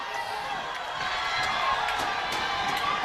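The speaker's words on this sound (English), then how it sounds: "Crowd trying to make as much noise as they can" Softball crowd at an NCAA tournament game, Michigan vs. James Madison, keeps up a steady wash of cheering, whoops and shouts, loud and continuous throughout.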